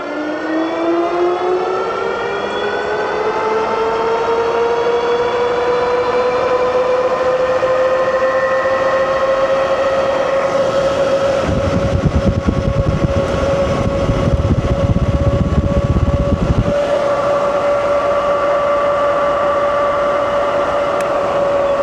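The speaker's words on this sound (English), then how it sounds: "The bike hit 35 miles an hour on the radar gun, dual motor, pedal assist 5." An AMYET Ares 52v dual-motor folding electric bike on a top-speed run on pedal assist 5: a loud, steady electric motor whine rises in pitch as it accelerates and then holds, with a burst of wind rush midway.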